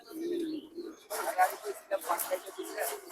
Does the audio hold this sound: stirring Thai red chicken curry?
no